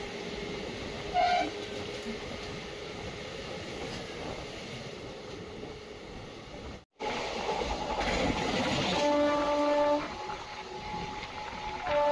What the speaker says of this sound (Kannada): ಇನ್ನೊಂದು ಟ್ರೈನ್ ಕ್ರಾಸಿಂಗ್ ಆಗ್ತಿದೆ